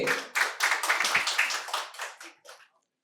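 Loud, close applause for a quiz competition winner at a medical college and hospital event, a dense burst of hand claps that stays strong for about two seconds before thinning out and stopping.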